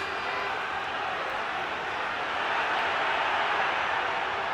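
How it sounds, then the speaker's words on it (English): A rugby crowd at a night match in the Bath versus Gloucester local derby sends up a steady, broad roar of cheering and noise with no breaks, fairly loud and continuous throughout. "now we can really hear the crowd"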